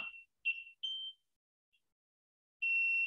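High-pitched electronic beeps from a buzzer driven by an Arduino with an IR sensor sound in short bursts with gaps, ending on a longer sustained tone; no talking.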